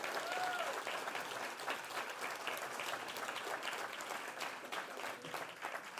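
An audience gives a sustained round of applause at an awards ceremony, dense even clapping that holds steady for several seconds at moderate volume with no talk over it.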